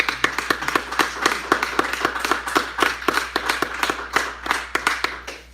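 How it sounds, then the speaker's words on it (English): Applause at a live podcast recording in Chicago, a small audience clapping in sharp, close, fairly sparse claps that keep a steady uneven patter for several seconds without cheering. "Let's have a round of applause."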